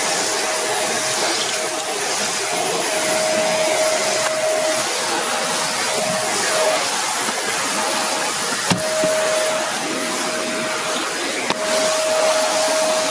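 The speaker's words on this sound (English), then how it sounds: "Let's vacuum." A Shark Rotator vacuum cleaner runs steadily on carpet, a loud continuous broadband whoosh with a faint constant motor whine throughout, no talk.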